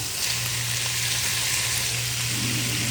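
Squid and vegetables stir-fry in a pan for a spicy oyster-sauce dish, giving a steady, close, loud sizzle with faint stirring throughout and no talk.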